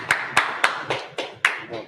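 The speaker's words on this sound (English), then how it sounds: "Clap it up." A congregation at a Baltimore Feast of Trumpets gathering claps six sharp, evenly spaced times, the handclaps close, crisp and steady.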